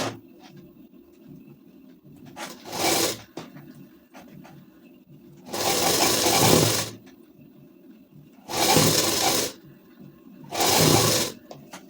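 A sewing machine stitching a ladies suit runs in four short bursts of rapid whirring, each lasting one to a few seconds, separated by quiet pauses with faint handling noise.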